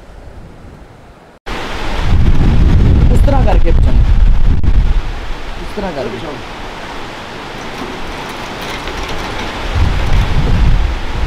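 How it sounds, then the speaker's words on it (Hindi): Heavy rain pours down at Badgoi Pass on the mountain road from Kalam to Kumrat Valley, a loud, dense roar with low rumbling swells, while people talk under a closed shop's roof. "चले थे तो यहाँ से बारिश आ गई शदीद तेज वाली"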